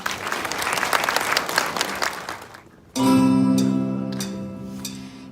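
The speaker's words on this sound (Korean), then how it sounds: "뜨거운 응원의 메시지를 보내주신 분들께 힘찬 박수 부탁드립니다" An audience at a new party members' training session applauds in a steady crowd patter for about three seconds, then the clapping fades as sustained music starts up.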